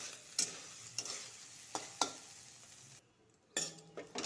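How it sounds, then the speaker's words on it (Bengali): Soybean chunks fry in oil with a quiet sizzle, punctuated by sharp metallic taps and scrapes of a utensil against the pan at irregular intervals, with a short lull before the stirring resumes. "সোয়াবিনটা আগে একটু ভালো করে ভেজে নিব।"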